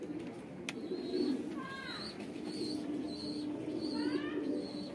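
Young White Dragon bloodline Madrasi pigeons in a loft give several soft, wavering coos and short chirps at close range, over steady low background noise.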